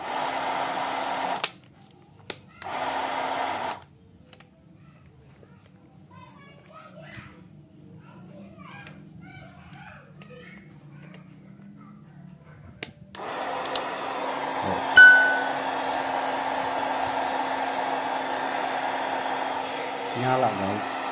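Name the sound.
cordless heat gun running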